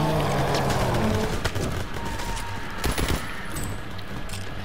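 Gunfire erupts from the zombie boss in the Call of Duty WWII Shadowed Throne zombies boss fight: dense, loud bursts over a busy game soundscape, with sharper shots standing out near the middle.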